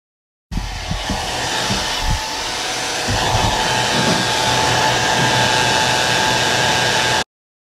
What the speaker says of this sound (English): Make sure you have your blow dryer on low and just not too close